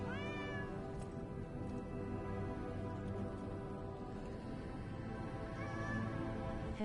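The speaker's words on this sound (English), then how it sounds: "You get to pet the cat. You get to interact with the cat." A cat meows in the video game Lies of P, two short rising cries at the start and end, faint beneath a dense, steady wash of game music and ambience.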